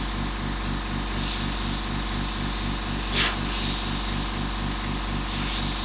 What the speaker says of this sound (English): refrain from misting areas that I don't want to mist